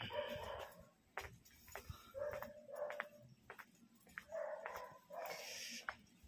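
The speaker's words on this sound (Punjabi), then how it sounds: "ਸਿਰਫ ਚਿੜੀਆਂ ਦੀ ਚਲ ਚਲਾਹਟ ਆ ਜਾਂ ਕੁੱਤਿਆਂ ਦਾ ਭੌਂਕਣਾ" Dogs in a village barking repeatedly at a distance, with uneven bursts of barks and yips spread across the scene and no talk.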